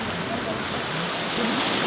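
Ocean waves wash steadily onto the shore below a coastal cliff on Gaedo island near Yeosu, Korea, a dense, even roar of surf close by, with no talk.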